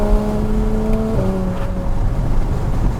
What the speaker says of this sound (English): See what I mean by the shifts? Very much no pops on the upshift, just literally through, straight to the next gear.